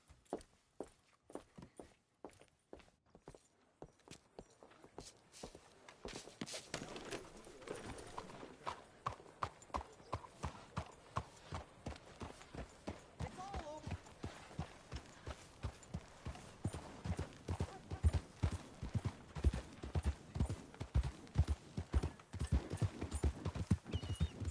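Horse hooves clip-clop in a video game, starting as sparse, soft steps and building into a steady, loud walking rhythm that keeps going to the end.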